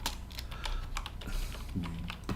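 Quick, busy typing on a computer keyboard, a dense patter of close key clicks with a few heavier strokes over a low steady hum, and no one speaking.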